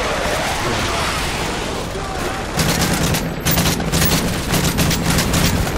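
Rapid bursts of video game gunfire from an AK rifle crackle in quick succession, dense and loud, with a steady noisy background.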